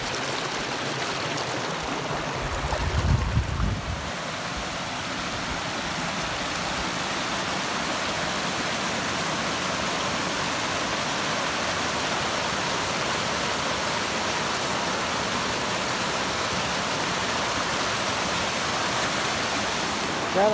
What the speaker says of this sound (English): Look at all the little streams down below.